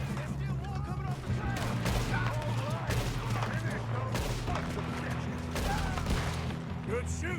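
Gunfire in the Western game Red Dead Redemption during a fight on a trail: repeated sharp shots and bursts, some near and loud, others scattered, over a continuous background of action and voices.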